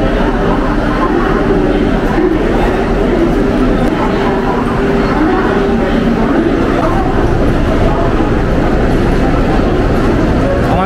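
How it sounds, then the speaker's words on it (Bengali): The Howrah–Ranchi Shatabdi Express pulls into a railway station, a loud, continuous rumble of the moving train filling the scene without letup from start to finish. "আমাদের ট্রেন ঢুকছে"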